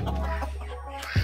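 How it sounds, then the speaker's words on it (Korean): Ornamental chicken on a rural farm, a close, low clucking with a brief louder cluck near the end, with no talk over it. "얘는 관상용 닭입니다."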